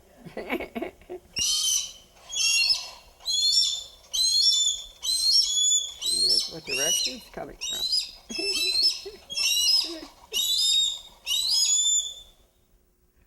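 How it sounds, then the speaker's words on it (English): A Harris hawk gives a series of about eleven high, thin, rasping calls, repeated at a steady pace, with a person talking quietly underneath the first few. "that noise, to me, is so wimpy for a hawk of this stature"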